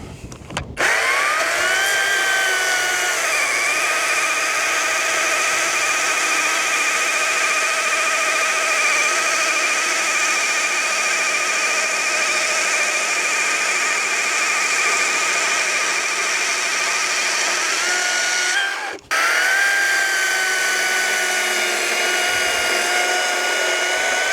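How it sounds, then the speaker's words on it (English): An EGO CS1200E battery chainsaw cross-cuts softwood with a steady, loud motor whine under load, running continuously for about eighteen seconds, then a brief drop at a cut's end before it revs up again. "Softwood up first. Let's do a bit of cross cutting."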